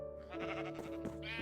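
Sheep bleating in a video game, a close, loud, wavering bleat that holds for over a second with no talk over it.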